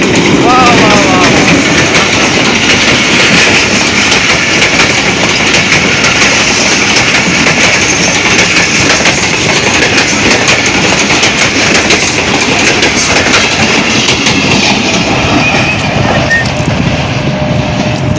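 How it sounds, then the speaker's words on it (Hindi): The Thal Express, running from Rawalpindi–Islamabad toward Multan, rumbles loud and close past a closed level crossing, a continuous heavy roar with rhythmic wheel clatter that never lets up, and a voice can be heard over it at the start. "ट्रेन आ रही है। ये रावलपिंडी इस्लामाबाद से आ रही है और मुल्तान जा रही है, थल एक्सप्रेस"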